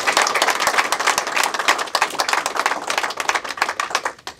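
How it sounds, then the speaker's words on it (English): Sustained audience applause at a campaign speech, a dense crowd of clapping hands filling the room at a steady loud level before tapering off at the end. "So please give him another round of applause."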